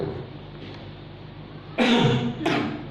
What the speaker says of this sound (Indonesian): Saya batuk